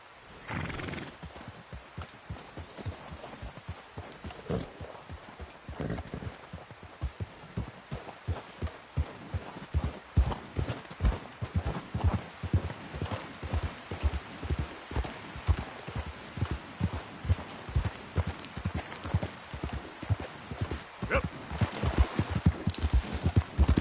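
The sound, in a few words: horse hooves in video game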